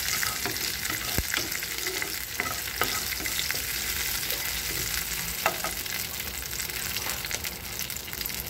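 Curry leaves and green chilies sautéing in hot oil for egg masala, a continuous soft sizzle with intermittent scraping and tapping of a stirring spoon against the pan.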